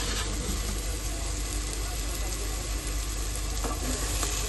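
Spiced masala roasting in oil for a Marathi village-style mutton rassa, giving a steady close sizzle and fry with occasional stirring scrapes, continuous throughout with no talking.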